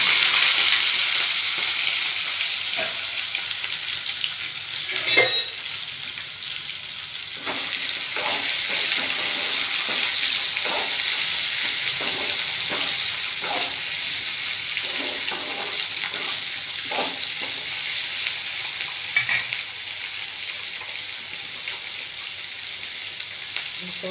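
Ivy gourd with curry leaves sizzles steadily in a frying pan, a continuous close hiss with the soft scrapes and knocks of stirring through it, and no talk.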